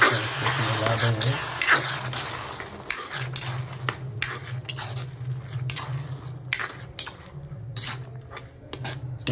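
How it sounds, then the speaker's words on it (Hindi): A spoon stirs curd into capsicum (shimla mirch) sabzi in a pan, dhaba style, with steady scraping and metallic clinks over a soft sizzle, close up with a low hum beneath. "अब इसमें दही डाल देंगे। दही डालने के बाद इसमें मिला देंगे।"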